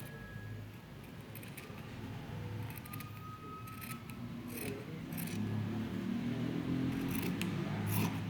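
Scissors cut through fabric along a pattern line for women's boxer shorts, giving a quiet series of short, irregular snips over a low background rumble. The sound is close and faint, and there is no talking.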